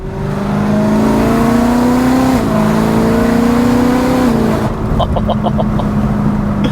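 A BMW E92 M3 engine revs hard through a valved exhaust with rising pitch, drops, then climbs again before settling into a steady loud rumble, close and sustained.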